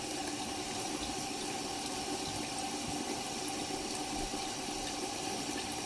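Steady broadband rush of running tap water flowing continuously at close range while fingers are wetted at a sink during a DIY facial scrub, with no voices.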